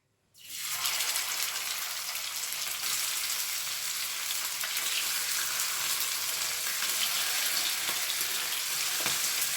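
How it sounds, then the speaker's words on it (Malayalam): Marinated chicken pieces, coated in masala with a squeeze of lemon, sizzling in hot oil for fried chicken biryani; a loud, steady frying hiss begins abruptly and continues unbroken, with no talking. "ഇത് നമുക്ക് വറക്കാം ഫ്രൈ ചെയ്യാം"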